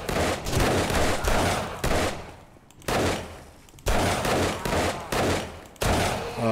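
Repeated loud gunshots and bursts of fire in the survival game 7 Days To Die, arriving in spaced clusters about once a second with short gaps between, no talking.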